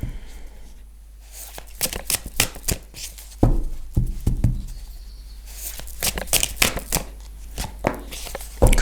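A playing card handled and drawn from a deck during a card reading, giving close, sharp papery flicks and rustles in irregular bursts separated by quieter pauses.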